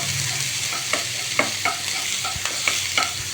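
Shallots and green chilli sauté in a hot pan with a steady broadband sizzle, while a utensil scrapes and stirs in a loose rhythm of sharp clicks. No one talks.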